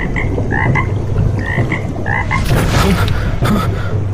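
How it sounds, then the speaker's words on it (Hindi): Frogs croak in short repeated bursts over a steady background of water and night ambience, fairly close and clear. "तभी पीछे पानी में हल्की टर टर की आवाज हुई।"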